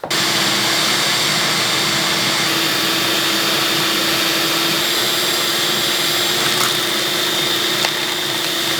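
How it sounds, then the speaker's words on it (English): A small-shop dust collection system running on a shop vacuum and sucking up sawdust: a loud, steady, close roaring whine with a constant airflow hiss, with no speech. "So let's start vacuuming that up, and let's see how it does."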